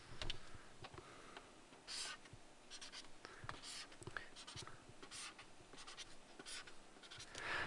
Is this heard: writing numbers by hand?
yes